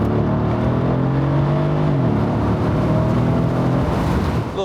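Mercedes R231 SL roadster with the late 722.9 seven-speed automatic pulling hard under acceleration, loud steady engine drone whose pitch drops at one quick upshift partway through, then climbs again, with no voice over it.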